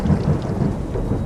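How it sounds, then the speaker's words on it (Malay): Rumbling thunder with steady rain, a deep low roll spread evenly across the brief moment and heavy rainfall hissing beneath it. "Hujan ni."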